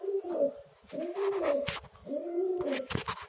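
Pigeons coo in a pigeon loft, three rolling, throaty coos repeating in a steady rhythm, close and clear with faint rustling behind.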